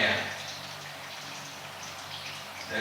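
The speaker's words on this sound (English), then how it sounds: "That sweet oil stream." Hot engine oil draining from a car in a thin stream into a pan, a soft continuous trickling pour with light spattering, close by.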